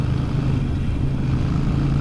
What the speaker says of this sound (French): le bruit des pots, il est assassin